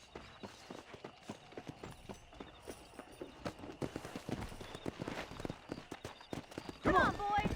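A horse trots and gallops with steady clip-clop hoofbeats in Red Dead Redemption, running close and moderately loud with a brief whinny-like call near the end, while the rider's voice speaks over it.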